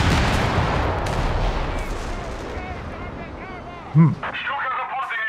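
Nebelwerfer rocket artillery barrages in Company of Heroes 3, heard as a continuous dense rumble of distant explosions and gunfire under talk, with one louder nearby blast standing out near the end.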